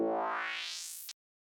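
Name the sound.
Serum FM synth lead with metallic tone, 4 semitones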